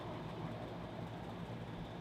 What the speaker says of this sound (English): Oh, good, the air conditioner just started.